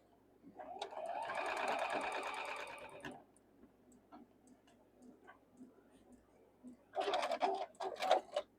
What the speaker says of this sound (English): So let's sew these right here together first, okay?